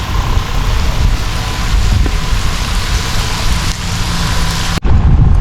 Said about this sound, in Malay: Gang, hujan lebat gang.